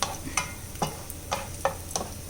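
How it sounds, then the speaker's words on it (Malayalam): Raisins fry in a pan with cashews while kaipola is being made. A soft sizzle sits under a run of quick, evenly spaced stirring taps, close by. No one talks. "ഇനി നമുക്കിതിലേക്ക് ഉണക്കമുന്തിരി ഇട്ട് കൊടുക്കാം. അതും കൂടെ നല്ലോണം ഒന്ന് മൂത്ത് വരട്ടെ"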